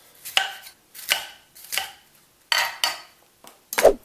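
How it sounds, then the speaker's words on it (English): A knife cuts a halved, seeded bell pepper into strips on a cutting board, six distinct thumps at an uneven pace with the last one sharper, no talking. "Then we're just going to cut this into strips."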